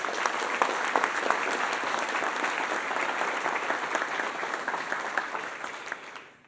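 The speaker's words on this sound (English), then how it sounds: "How about a round of applause for those involved?" A university audience at a state-of-the-university address gives a sustained round of applause, thick and even, then tapering off at the end.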